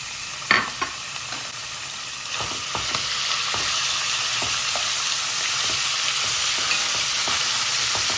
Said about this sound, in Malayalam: ഒന്ന് ചൂടായ ശേഷം ഞാൻ കുറച്ച് ചിക്കൻ ചെറുതായിട്ട് അരിഞ്ഞെടുത്തിട്ടുണ്ട്, അത് നമുക്ക് ഇതിലേക്ക് ഇട്ട് കൊടുക്കാം